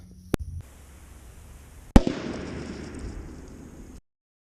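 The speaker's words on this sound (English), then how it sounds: "spin the block around, shoot the other way with the Creedmoor" A 6.5 Creedmoor rifle fires into a ballistic gel block at 100 yards outdoors: a sharp crack, then a second loud report that rolls into a long, fading echo.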